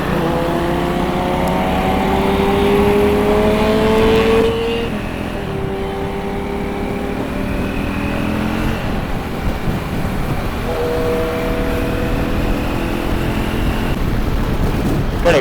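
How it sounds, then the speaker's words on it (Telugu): An inline-four motorcycle engine passes on the road during a Christmas Day ride, its rising tonal whine sweeping through twice over steady wind and road rumble, fairly loud and close. "ఇన్లైన్ 4 బైక్ సౌండ్ వస్తుంది."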